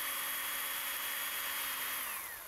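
A power drill bores a hole into a wooden burnishing-tool handle for wood carving, giving a steady high whine that holds for about two seconds and then winds down, close and alone.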